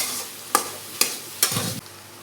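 Four green chillies fry in a pan for moong dal, with three distinct clanks of a spatula followed by a brief scraping stir over a faint background sizzle.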